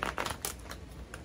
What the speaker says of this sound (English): Deck don't want to shuffle.